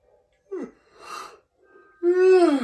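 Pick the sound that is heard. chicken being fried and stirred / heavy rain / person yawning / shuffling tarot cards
person yawning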